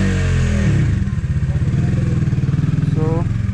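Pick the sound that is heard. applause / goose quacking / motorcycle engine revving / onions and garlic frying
motorcycle engine revving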